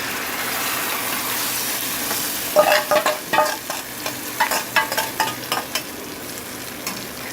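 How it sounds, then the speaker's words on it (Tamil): Ground beetroot paste sautéing in a hot tempering for beetroot chutney, a steady sizzle broken by a run of sharp stirring scrapes and spoon knocks, close and fairly loud, with no talking. "நம்ம வந்து அரைச்சி வச்சுருக்கோம் பாருங்கள் நைஸாக இந்த பீட்ரூட்டை இதில் அப்படியே போட்டுக்கோங்க"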